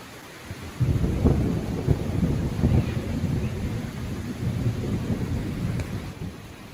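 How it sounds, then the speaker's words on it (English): Steady rain pours outside a small one-room cabin during a storm, with low rumbling thunder rolling continuously underneath for several seconds, no voices. "It wasn't long before the storms reached us."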